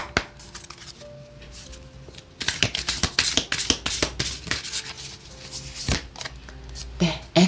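Tarot and oracle cards are shuffled and handled up close, giving brisk riffling bursts and dry flicks and taps as cards are drawn and laid down, with no talking.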